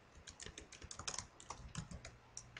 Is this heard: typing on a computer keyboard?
yes